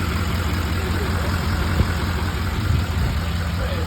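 A lifted truck's engine idles close by, a steady low rumble holding even for the whole stretch with no speech over it.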